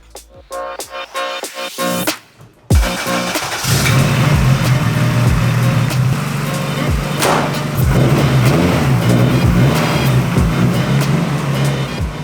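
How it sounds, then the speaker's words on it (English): Honda Civic engine on 85 fuel cranks through a few sputtering turns, catches and settles into a loud, steady idle close by, with a small rise in revs partway through. "it just cold started on the 85 and I didn't have to give it any throttle input"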